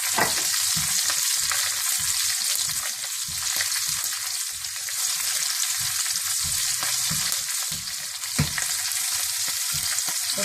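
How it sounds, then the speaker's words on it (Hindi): Green chillies hit a hot tarka of oil with cumin seeds and garlic for moong masoor dal, giving a loud, steady, crackling sizzle that runs unbroken throughout with no voices. "और थोड़ा सा भूनने के बाद आप इसमें हरी मिर्चें भी डाल दें।"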